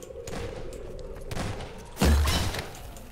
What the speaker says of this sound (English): is killing a zombie with a shotgun